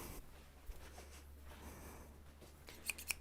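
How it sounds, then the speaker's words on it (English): Large scissors trimming quilt fabric, a few quiet cutting snips near the end over soft room background, faint and close. "grab my bigger scissors to trim this"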